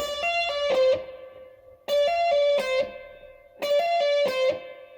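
Clean electric guitar plays three short repeated phrases of quick picked pentatonic scale notes in a lilting triplet rhythm, each phrase ringing out briefly before the next.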